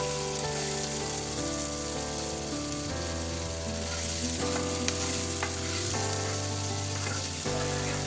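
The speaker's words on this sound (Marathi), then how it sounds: "आता आपण या कांद्याला छान असा गुलाबी रंग येईपर्यंत तळून घेणार आहोत." Chopped onion and curry leaves sizzle steadily in a hot pan, a close, continuous crackling hiss that holds even from start to finish with no talk.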